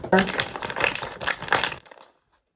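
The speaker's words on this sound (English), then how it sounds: "Kate, just open the freaking icing" Crinkly plastic packaging of gingerbread house icing being torn and crumpled up close, a busy run of sharp rustles and crackles with voices mixed in, then stopping abruptly into near silence.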